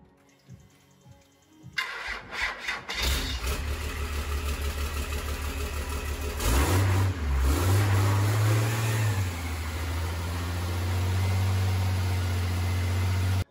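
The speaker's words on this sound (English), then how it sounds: "cranked on it, the truck fired right up instantly" After a short crank, a truck engine fires up at once and settles into a steady, deep idle, close and loud, with a brief rev partway through.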